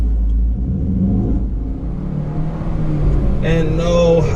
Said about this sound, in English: it sounds like the engine is trying, struggling, can't breathe